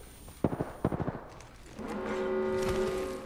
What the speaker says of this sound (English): Taking fire, brothers. Firing.